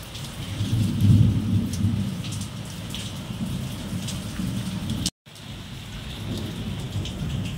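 Deep thunder rumbling through a heavy thunderstorm, one strong roll early then lingering low rumble, over constant steady rain pattering on surfaces, with a brief dropout partway.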